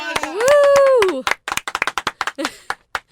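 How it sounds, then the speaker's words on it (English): A few people clap in a radio studio after a whooping voice: scattered, close, individual claps with uneven rhythm, thinning out over a couple of seconds. "Can we get a round of applause?"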